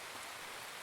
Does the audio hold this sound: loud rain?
yes